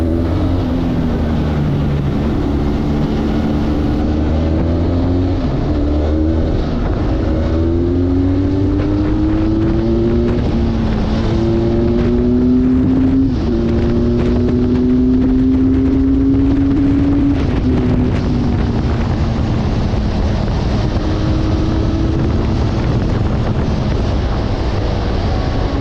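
A 2021 Benelli 502C motorcycle engine drones loudly while riding, its pitch stepping up through a series of downshifts from sixth to third gear, with heavy wind rush and no talking.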